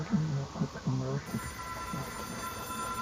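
In the video game Control, a rotary telephone rings in rapid trilling bursts, faint and tinny beneath a voice and a steady background hum.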